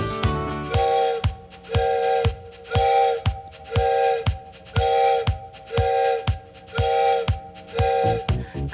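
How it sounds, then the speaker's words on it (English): A whistle-like tone sounds in eight evenly spaced blasts over a steady rhythmic chugging beat, loud and regular. "Listen to the whistle blow 8 times."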